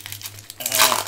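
Plastic wrapping of a Yu-Gi-Oh Legendary Duelists card box crinkles and tears open, a soft rustle building into a louder, sustained crackle near the mic, with a low steady hum underneath.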